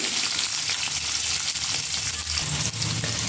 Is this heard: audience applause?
no